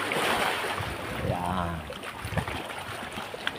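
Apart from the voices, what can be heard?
strong sea waves at a rock formation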